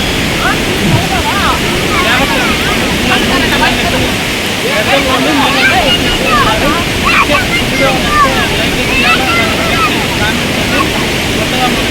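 Loud, constant rushing of falling water from a waterfall at a dam fills the whole stretch, broad and unbroken, with some wind buffeting mixed in.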